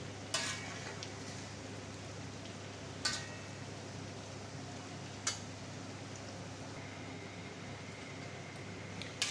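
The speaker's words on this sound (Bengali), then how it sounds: "বন্ধুরা কড়াই ভরে টিকিয়াগুলো দিয়ে দিছি" Hand-shaped kebab patties (tikia) fry in a wok filled with oil, giving a steady, close hiss of sizzling with a few sharp clinks of a utensil against the pan at intervals.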